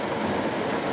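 Steady, dense rain falling, a loud close hiss with no pauses through the short moment and no voices.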